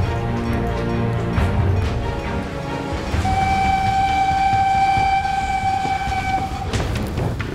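A train rumbles past with a loud, steady roar, and a sustained horn blares through the middle of the passage.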